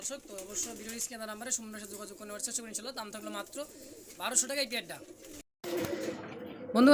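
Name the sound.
racing pigeons cooing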